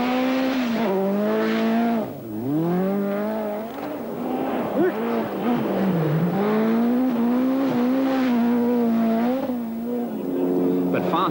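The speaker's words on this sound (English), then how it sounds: "it was Blomqvist, the 7 times winner of the Swedish, first down the frozen roads in the new" A Ford RS200 rally car races on frozen roads at the 1986 Swedish Rally, its engine revving high and loud with rising and falling pitch as it shifts through gears and slides, sounding close and continuous.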